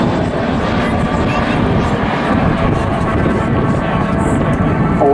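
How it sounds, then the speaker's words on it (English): Two de Havilland Vampire jets from the Norwegian Air Force historical squadron, a T-55 two-seater and a single-seat FB, fly past at an airshow in Southport with a loud, steady engine roar that fills the air. "here they come. The friendly forces have arrived in the guise of two vampires"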